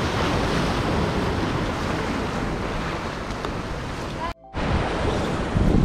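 Strong wind and breaking surf batter a sea wall at Wollongong, a steady loud roar of gusts and waves throughout, with a brief dropout near the end before the rush returns.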